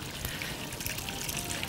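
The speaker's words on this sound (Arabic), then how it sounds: "حاسه بس ان الرز محتاج حبه ميه كمان مغليين" Boiled water is poured into a pot of cooking rice, producing a faint, brief splashing trickle with a soft hiss.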